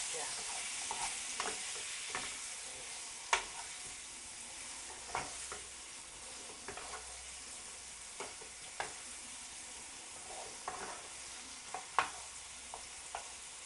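Apples tossed and coated in a sweet mixture in a frying pan for apple cinnamon pancakes, with a soft steady sizzle and scattered scraping clicks of a spoon against the pan, fairly quiet and close, no talking.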